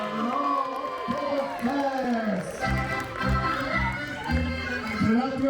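A crowd at an Alton Towers Oktoberfest cheers and whoops for a performer, loud and lively, with voices calling out and rhythmic thumps breaking in partway through.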